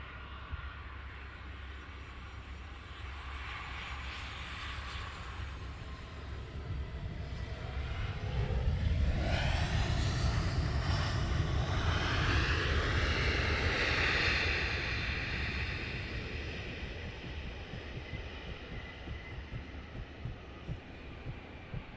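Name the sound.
aircraft taxiing at Luton Airport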